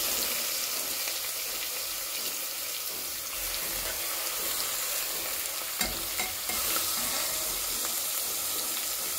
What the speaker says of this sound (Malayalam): ഇനി നമുക്കിതിലേക്ക് എടുത്ത് വെച്ചിരിക്കുന്ന ലിവർ ഇട്ട് വെക്കാം.